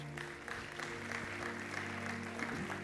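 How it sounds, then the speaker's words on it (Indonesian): A church congregation claps during a Sunday service, soft and somewhat distant applause over a steady low hum, with faint voices mixed in. "Kasih tepuk tangan buat Tuhan Yesus."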